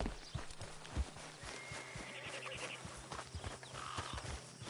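A horse in a video game clip-clops along with close, uneven hoof strikes on hard ground, then whinnies briefly in the middle, with faint background ambience and no talk.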